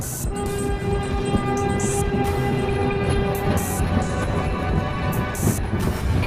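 A train pulls into a railway station with a continuous rumbling roll of wheels and wagons. A long horn sounds over it, and brief high squeals or hisses cut in at intervals.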